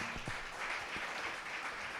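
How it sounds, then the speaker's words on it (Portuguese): A church congregation at a live worship service gives a round of applause, heard as faint, distant, steady clapping from many hands with no voices over it. "Você que pode, dê uma salva de palmas para Jesus."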